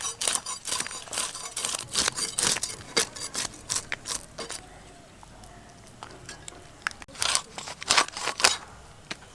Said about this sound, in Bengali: এই মাছটা 2 পিস করব।